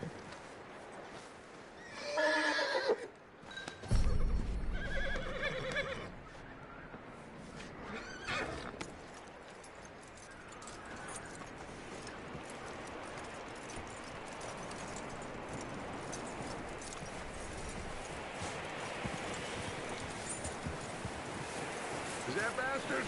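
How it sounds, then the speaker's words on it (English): Horse in a PS4 video game neighs and whinnies loudly near the start, with clip-clopping hooves and wind noise continuing afterward under occasional speech. "That looks like a decent horse."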